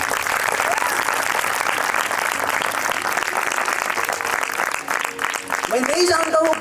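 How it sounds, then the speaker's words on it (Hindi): A congregation at a revival meeting claps together in praise of the Lord, loud sustained applause filling the room, fading briefly before a voice speaks over the tail end. "बजाएं प्रभु के लिए एक बार ताली।"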